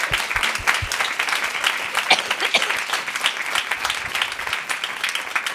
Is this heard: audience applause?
yes